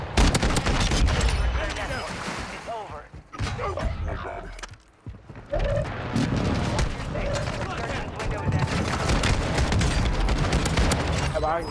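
Shotgun fire in Call of Duty Warzone 2.0 on Ashika Island, a dense barrage of loud, close blasts and booms that keeps going almost without pause, with a brief lull midway, under an excited voice.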